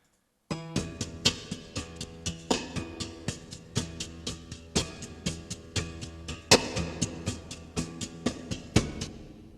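Two looped woodwind lines play together in a steady, rhythmic pattern of repeated plucky attacks, loud and clear with no voices.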